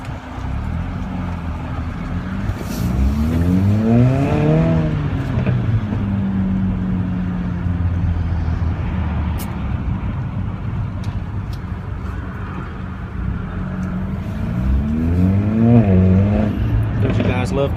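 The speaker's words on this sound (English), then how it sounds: "Love that exhaust note." Mercedes-Benz CLA45 AMG exhaust revving up twice in rising sweeps with a sustained engine note between, loud and close, over a constant background roar.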